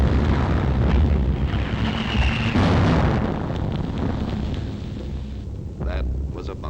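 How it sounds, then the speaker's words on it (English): A bomb goes off in London during a 1940 air raid, a loud, broad roaring blast with rumbling debris that slowly dies away. Faint crackling pops follow near the end. "That was a bomb."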